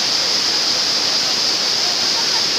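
Rushing water in a dense rainforest on the way to a waterfall makes a loud, steady, unbroken roar that fills the whole moment, with no pauses.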